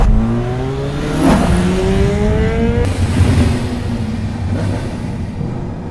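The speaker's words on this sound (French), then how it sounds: "ils ont mis un bruit de 4 cylindres un peu énervé" Revving of an angry-sounding four-cylinder engine dubbed for the MV Agusta F4 1000R motorcycle in The Dark Knight, climbing in pitch through a couple of gears and then easing off, loud and close, with no speech.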